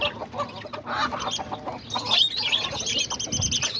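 Chickens clucking and chirping steadily, a busy flock close by with rustling and scattered calls throughout, no talking.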